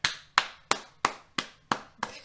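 Seven slow, evenly spaced hand claps from a single person, sharp and close, with no talking.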